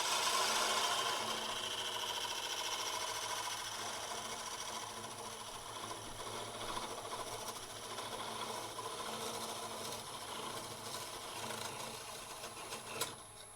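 A wood lathe whirs steadily as a parting tool bites into the spinning wood of a handbell ornament, giving a continuous rasping hiss that eases slightly toward the end.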